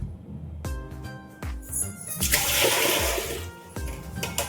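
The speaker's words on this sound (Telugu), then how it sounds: "వాటర్ అయితే పడేసాను" Hot water is drained from a cooking pot during chicken dum biryani preparation, a close splashing pour of about a second and a half amid light clinks and kitchen noise.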